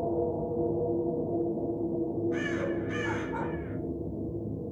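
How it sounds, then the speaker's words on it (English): Two loud raven caws from a video game, in close succession, rise over a steady low droning hum. "That raven sound was a bit on the front"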